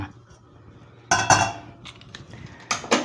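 A metal spoon is lifted out of a bowl holding torrija cream ingredients, giving a couple of bright clinks and scrapes against the rim, separated by quiet moments, close by and with no speech.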